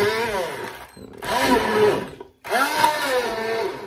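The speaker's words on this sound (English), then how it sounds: "I have one of these hand blenders. They work absolutely fine." A hand blender purees carrot and beetroot soup in a pan, a loud close whirring motor run in three pulses separated by short pauses, its pitch wavering as it churns through the vegetables.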